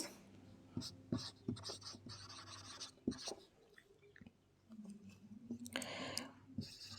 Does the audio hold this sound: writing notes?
yes